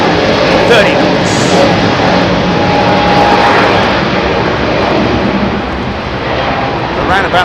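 A heavy jet departs runway 27R at London Heathrow, its engines producing a loud, sustained roar that eases slightly toward the end while someone talks over it.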